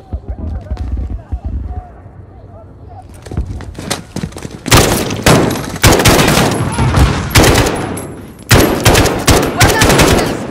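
Video game gunfire in Call of Duty Modern Warfare: after quieter moments with voices, loud bursts of rapid automatic shots erupt close by in clustered volleys, with talk mixed in between.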